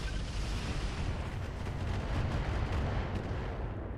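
Mech weapons firing in the battletech game RogueTech: a low, distant rumble of artillery-like blasts rolling continuously, fairly faint and steady with soft crackling on top.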